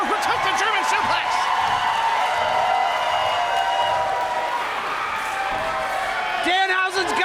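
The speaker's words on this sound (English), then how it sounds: "Hear the crowd." A loud wrestling show crowd at Danhausen's Halloween event, a sustained roar of voices with rhythmic chanting and whoops, heard under a commentator talking, with a brief sharp break near the end.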